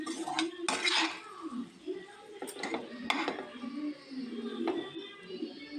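A spoon scrapes and clinks around a metal cooking pot of masala with drumstick for tamarind curry, in slow, uneven strokes, close and moderately quiet.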